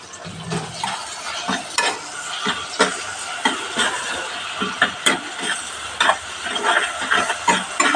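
Spice paste with green chilli paste sautéed and stirred in a pan for papaya curry, loud close sizzling broken by repeated scraping strokes of a spatula at an uneven rhythm.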